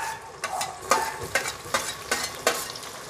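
Chopped tomato going into fried onions in a pan for a brinjal (badanekai) dish: a continuous sizzle broken by regular stirring scrapes and taps, close and fairly loud, with no voice.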